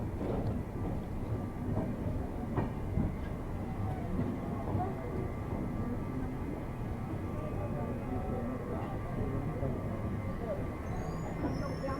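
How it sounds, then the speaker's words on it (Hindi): Capital Express passenger train pulling into Naugachia railway station in Bhagalpur district, Bihar, heard from on board as a steady, low rumbling roar of rolling wagons that holds evenly throughout at a moderate level. "हम लोग की ट्रेन पहुंच चुकी है नौगछिया रेलवे स्टेशन पे"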